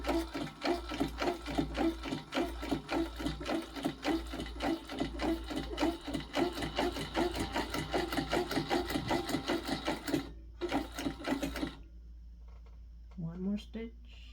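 A sewing machine top stitches an eighth-inch seam allowance on a fabric bag, running in a steady rapid clatter for about ten seconds, then stopping briefly and starting again before falling silent, with a voice speaking near the end.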